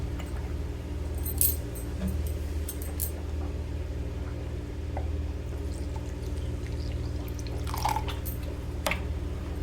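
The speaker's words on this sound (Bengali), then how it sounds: "এবার এতে আমি একটু জল দিয়ে দিব।" Water poured into a mixer grinder jar holding a dry ground paste for a steamed katla fish dish, heard as a few short splashes and clinks over a steady low kitchen hum.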